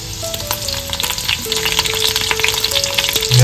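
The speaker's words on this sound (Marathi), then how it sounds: "कढईमध्ये तेल घालून घेतलेलं आहे. फोडणीसाठी सर्व लसणी घालून घेतोय." Garlic and curry leaves crackle and spatter loudly in hot oil in a kadai, a busy sizzle of sharp pops that grows stronger toward the end.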